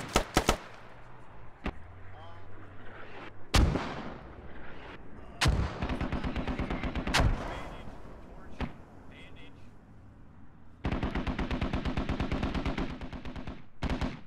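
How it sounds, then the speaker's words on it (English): Mortars firing in the video game Squad: a string of heavy booming launches and blasts, some close and loud, others farther off, ending in a dense burst of rapid gunfire, with voices talking in between. "Mortars firing."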